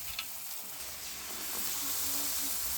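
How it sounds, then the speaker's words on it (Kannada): Battered potato bajji pieces fry in hot oil, a continuous close sizzle and hiss that grows slightly louder and denser as it goes, with faint bubbling underneath. "ಬಜ್ಜಿ ಪೀಸ್ ಹಿಂಗೆ ಎದ್ದಬೇಕಿದ್ರಾಗ ಎದ್ದಿದ ನಂತರ ಕಾದ ಎಣ್ಣೆಗೆ ಹಾಕಿ ಕರಿಬೇಕು ನೋಡ್ರಿ"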